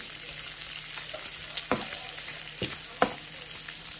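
Bacon fries in a pan on the stove at a low heat setting, giving a steady, dense sizzle with a few sharp pops and crackles close by.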